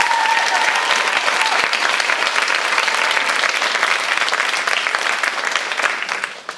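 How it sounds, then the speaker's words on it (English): An audience at a live poetry event applauds, a dense, loud, steady clapping from a crowd that carries on for several seconds before starting to thin out. "I think that in itself deserves a round of applause."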